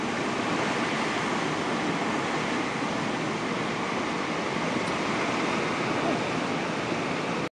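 Constant rushing water roars steadily from somewhere below on Yakushima, Japan, an unbroken wash of noise with no voices over it.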